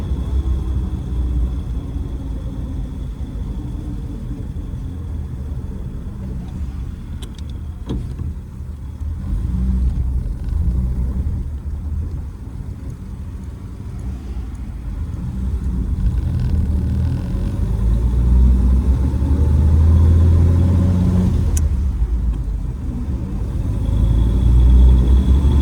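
A 1937 Plymouth Deluxe Tour Sedan on the move, its engine a continuous low rumble heard from inside the car, swelling and easing slightly as it drives along.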